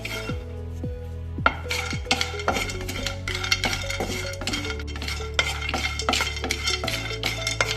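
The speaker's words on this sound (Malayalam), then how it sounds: "ഇനി ലാസ്റ്റ് നമുക്ക് മഞ്ഞൾ ഒന്ന് ചൂടാക്കി എടുക്കണം" Pieces of turmeric are dry-roasted in a pan for homemade sambar masala, stirred with a utensil that gives repeated close scraping and light clinking strokes over steady background music.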